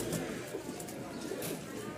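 Pigeons cooing at the Mirpur pigeon market in Dhaka, tagged farm-bred birds kept together, soft continuous murmuring coos mixed with dense crowd chatter and market bustle.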